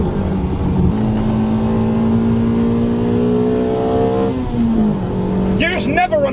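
A Toyota Altezza RS200 engine revs hard to just over 8,000 RPM, a loud, rising four-cylinder howl climbing steadily through the gears with a brief dip at a shift before pulling high again.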